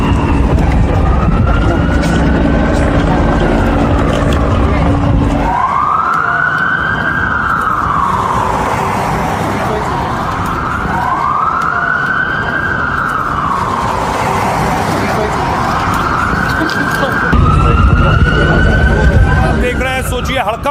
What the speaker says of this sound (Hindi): पुलिस पहुंचनी शुरू हुई, एम्बुलेंस पहुंचनी शुरू हुई, हेलीकॉप्टर आसमान में आ गए।